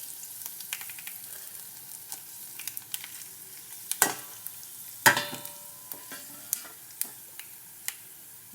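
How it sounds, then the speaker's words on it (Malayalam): Dry red chillies sizzling in oil in a pan for sweet mango pickle, a soft steady crackle broken by sharp pops and stirring clicks, strongest around the middle. "നമുക്ക് വറ്റൽ മുളക് കൂടെ ചേർത്ത് കൊടുക്കാം"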